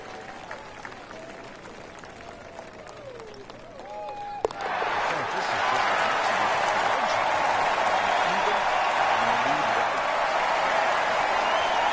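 Crowd applause and cheering from a PGA Tour golf video game erupts suddenly after a quiet stretch, then holds as a loud, dense, sustained roar; a commentator's voice runs beneath it early on.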